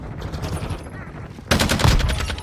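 Automatic gunfire rattles in Call of Duty Modern Warfare II, a quieter burst giving way to louder, close rapid shots in the second half, with a voice briefly heard.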